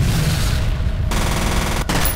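Loud gunfire and a blast-like burst from a grenade explosion in the first-person shooter game F.E.A.R., a dense continuous barrage of shots with a short gap near the end before the noise resumes.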